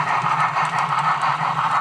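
A Broadway Limited model Pacific 2-8-2 steam locomotive runs on a model railway track, giving a steady close mechanical whir with a faint rhythmic pulsing throughout.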